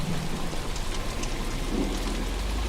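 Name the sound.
heavy rain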